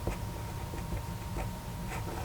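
Pen strokes scratch across paper while an algebra answer is written out, a run of short soft scrapes and ticks close by, steady and alone.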